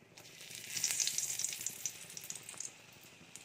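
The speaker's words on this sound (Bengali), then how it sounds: "তো এই তেলের মধ্যে আমি ফোড়নে দিয়ে দেব 3টে এলাচ" Three cracked cardamom pods dropped into hot oil for tempering, giving a bright, close hiss that swells quickly then settles into a steady crackling sizzle with small pops.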